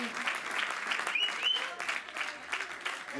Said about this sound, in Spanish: Ese aplauso.